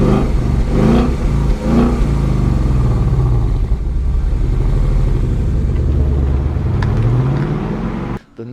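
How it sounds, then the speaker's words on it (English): Loud, deep V8 rumble from the twin exhausts of a 2016 Ford Mustang GT, UK spec, revving and surging with layered throbbing tones, close by and steady before cutting off abruptly near the end. "that is the exhaust note, so the sound of those twin exhausts"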